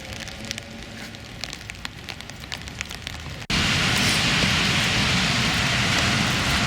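Rain falls on an outdoor town square, first as a lighter patter with scattered drops, then suddenly becoming a loud, dense, steady hiss for the rest of the stretch.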